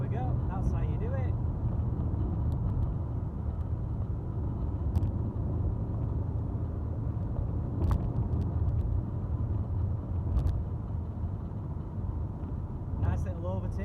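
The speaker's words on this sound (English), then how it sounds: "Nice little overtake of 4 cars in a row." Steady low engine rumble from a 1984 Mk2 Vauxhall Cavalier as it overtakes four cars in a row, a constant in-car drone with faint passing whooshes and a speaking voice over it.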